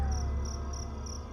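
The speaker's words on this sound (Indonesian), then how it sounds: "Di situ cuma ada suara jangkrik." Crickets chirp at night near a dark village, giving short, evenly spaced high pulses over a low, steady background hum.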